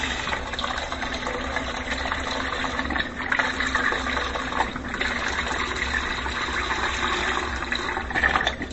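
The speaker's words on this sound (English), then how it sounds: "So now we're going to add beef broth." Thirty-two ounces of beef broth pouring into a soup pot for beef vegetable soup, a steady close gush of liquid lasting several seconds without talk.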